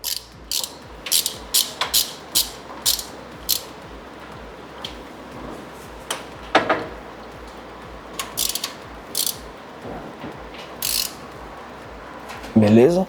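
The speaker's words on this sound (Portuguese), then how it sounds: "agora a gente só vai pegar ali a T40 para dar um torque baixinho aí" Short rhythmic clicks of a T40 Torx ratchet snugging a transmission flange to low torque during an automatic transmission fluid change, heard as bursts of close ticking with brief pauses, plus a louder clatter near the end.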